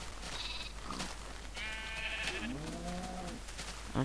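A sheep due for shearing lets out one drawn-out, quavering bleat, fairly faint against a steady background hiss.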